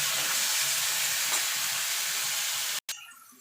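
Chopped tomatoes for a masoor dal fry in a hot pan, giving a steady broad sizzle with stirring scrapes, then a brief cut to quiet before a softer sizzle returns.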